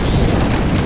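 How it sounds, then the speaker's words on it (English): A Molotov cocktail bursts into flame in Left 4 Dead 2, a loud, dense roaring whoosh of fire that fills the moment without a break. "Throwing a Molotov."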